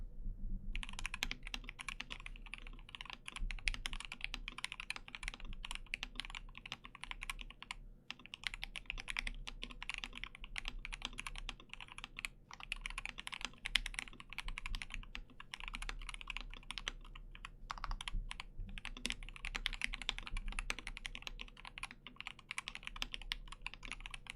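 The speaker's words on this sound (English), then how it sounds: "that whole time I couldn't hear my typing" Continuous typing on a KBD67 Lite mechanical keyboard fitted with Durock V2 switches, a steady close patter of keystrokes with brief pauses throughout, heard alone with no talking.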